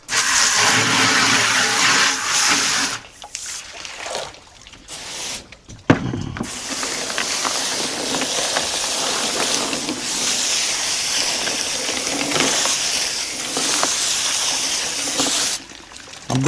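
Stone crabs get a rinse with a strong spray of water on a fishing boat. The hiss is loud and steady, broken by a few short pauses, and an engine rumbles underneath the whole time.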